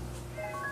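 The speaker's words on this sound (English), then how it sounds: "She's meowing a lot because she's basically saying, meow you been for 2 weeks." A female house cat gives a single short meow, close and fairly soft against a low background hum.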